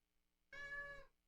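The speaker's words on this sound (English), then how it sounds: "Big meows from a little guy?" A small young cat lets out one loud, drawn-out meow lasting about half a second, close by and clear, with quiet surroundings before and after.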